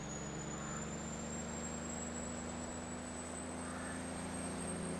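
A steady engine drone with a constant low rumble and a thin high whine from a classic square-body truck in Farming Simulator 22, cruising while hauling a load, no voices.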